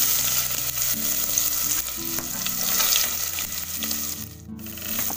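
Garlic and onion frying in hot oil after a mustard seed, asafoetida and cumin tempering, for a jackfruit vegetable dish: a steady, dense sizzle with occasional stirring scrapes, close and loud throughout.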